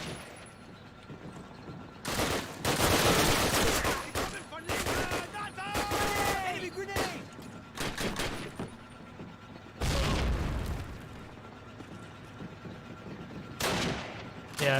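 Gunfire in a video game comes in several loud bursts of rapid shots and booms, separated by quieter gaps, with brief voices now and then.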